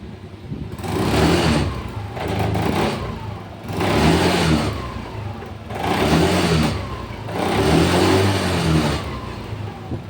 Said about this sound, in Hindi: गाड़ी दोस्तों रेस पूरी ले रही है